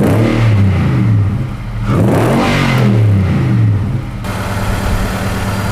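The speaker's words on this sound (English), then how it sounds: "Nismo cat-back exhaust system" A Nissan Titan XD fitted with a Nismo cat-back exhaust revs up from idle in deep, aggressive swells, two strong pulls rising and falling before settling back to a steady, close idle.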